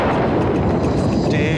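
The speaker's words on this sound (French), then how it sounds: "L'orage est au-dessus de nous." Thunder from a storm directly overhead at the St Fernando mountain fortress at night: a loud, continuous deep rumbling roll, close and heavy, filling the whole stretch.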